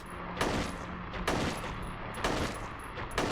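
Handgun fire in Silent Hill 3, four sharp shots spaced roughly a second apart over a continuous rumbling game backdrop, close and punchy.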